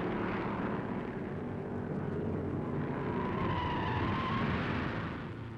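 Stock cars from 1957 race around Orange Speedway, a loud, continuous engine roar that swells and holds steady as the cars pass close by.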